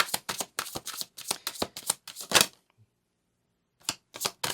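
Tarot cards are shuffled by hand in rapid rhythmic riffles, a dozen or so crisp bursts up close. A pause of near silence follows, then a few more shuffles.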